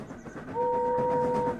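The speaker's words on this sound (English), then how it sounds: "Gordon's whistle blasted in the distance, and the big engine roared past without a word." Steam engine in a storybook railway tale: a rumbling train passes with a two-tone whistle sounding steadily for about a second midway, fairly loud over the rolling clatter.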